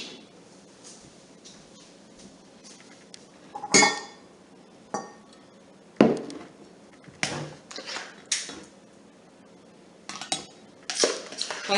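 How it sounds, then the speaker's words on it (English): Spoon clinking against a measuring cup and dishes while strawberries are scooped for no-cook freezer jam, a series of sharp close clinks and scrapes spaced irregularly over quiet room tone. "I'm just going to grab a spoon so I can spoon it into my measuring cup."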